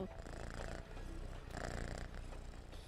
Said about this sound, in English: But the purr is just about as good.